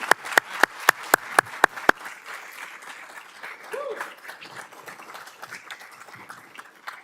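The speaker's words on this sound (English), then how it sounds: "So I think we a little applause." At a city council meeting, applause honors a recognized team: a run of about eight sharp, evenly spaced claps close by, then softer scattered clapping and murmuring voices from the room.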